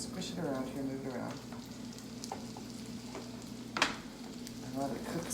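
Vegetables sizzling and frying in oil in a pan, a steady crackle with occasional louder pops and stirring scrapes, close up, with speech heard faintly at times.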